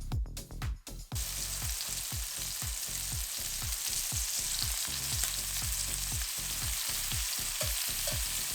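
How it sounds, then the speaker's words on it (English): Shrimp shallow-fry in olive oil and butter in a wok with a steady, dense sizzle. A few sharp pops and clatters come at the start, then a rhythmic pulsing pattern repeats under the frying noise. "I'm just adding a little bit of olive oil and a piece of butter, and we're going for shallow fry for the shrimp"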